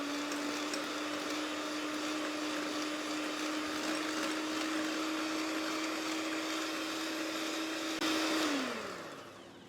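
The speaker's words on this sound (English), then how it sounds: "Beat it till it's light and fluffy for just few seconds." An electric hand mixer beating butter and powdered sugar for cookie dough, a steady motor whine that runs evenly and then winds down as it switches off.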